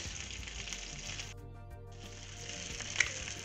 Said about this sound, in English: While you are searing your short ribs, you want to make sure that you are getting all four sides